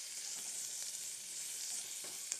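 Sliced onions sautéing in a pan for banana stem biryani give a soft, steady sizzle with light stirring scrapes and a small pop near the end, quiet and close with no voices.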